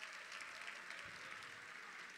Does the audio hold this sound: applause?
yes